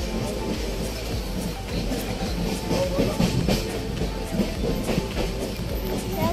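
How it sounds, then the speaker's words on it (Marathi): A Mumbai local train rumbles past close by with a continuous dense roar and rhythmic clatter of wheels on rails, heard from inside a moving Janshatabdi express. "तुम्ही आता बघू शकता समोरून एक लोकल ट्रेन आहे"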